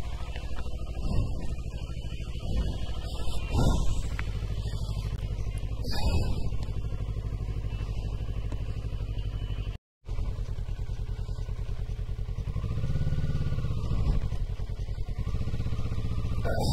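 A tall motorcycle rides along with a loud, continuous engine drone and road rumble, with several brief whooshing bursts and a momentary dropout partway through.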